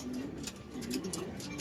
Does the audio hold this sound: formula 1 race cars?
no